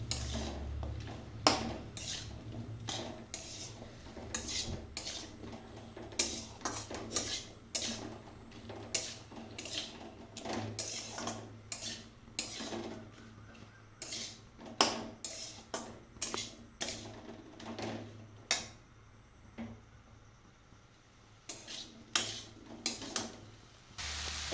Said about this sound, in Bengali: শাপলাটা দিয়ে খানিকক্ষণ একটু নাড়াচাড়া করবো